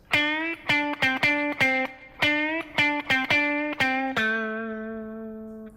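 Clean electric guitar picks a quick run of single notes, then bends the last note up a whole step and lets it ring out alone.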